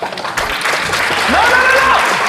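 Studio audience applause on a French lookalike show, a dense steady patter lasting about two seconds, with a voice calling out over the clapping.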